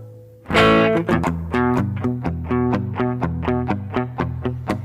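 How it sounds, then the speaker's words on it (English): Reverb on a repeated, distorted-sounding guitar-like tone, set with low high-frequency damping for a darker tail; about a dozen evenly spaced, loud plucked hits ring into one another with no voices. "So lower values will give you a darker reverb sound."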